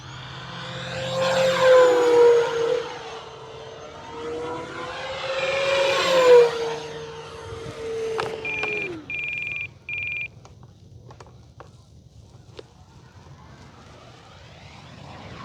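An E-flite T-28 Trojan RC model airplane flies upside down, its electric motor whining and swelling as it passes, then fading, with a few brief electronic beeps near the end.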